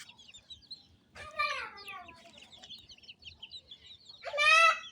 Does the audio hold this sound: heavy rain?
no